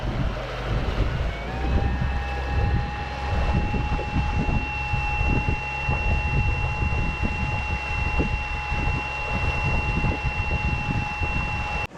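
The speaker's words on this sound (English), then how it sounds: "It is a louder motor than the ePropulsion Navy 6" Momentum M10 electric outboard motor pushing a boat at top speed, a steady high electric whine that rises in pitch early on, over water rush and wind buffeting, with no talk.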